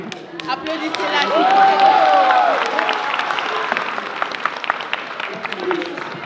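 Audience applause and cheering fill the hall at an evening fashion show, a broad steady clapping roar that swells and holds throughout, with a host's voice and crowd voices mixed in.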